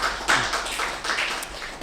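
Audience applause from a Bantul crowd at a morning talk show, a short burst of scattered claps, fairly close, swelling and fading in uneven waves.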